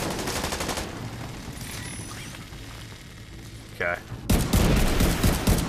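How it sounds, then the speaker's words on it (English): Rapid bursts of gunfire in The Division 2, a loud volley at the start, then a quieter stretch with mechanical clicks before heavy shooting resumes near the end, with a voice briefly speaking. "Keep shooting."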